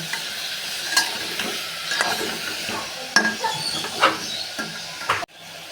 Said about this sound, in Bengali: চিকেনটা দিয়ে নেড়ে ফেড়ে এবার দেবো হালকা একটু মশলা